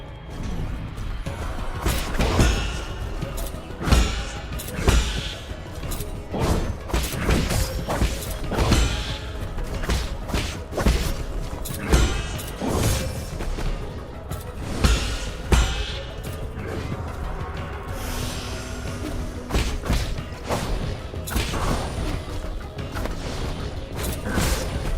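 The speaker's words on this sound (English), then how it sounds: "this elevator is super annoying" Elevator running in the game Nine Sols: steady mechanical rumbling punctuated by repeated heavy clanks and thuds at irregular intervals, loud and close throughout.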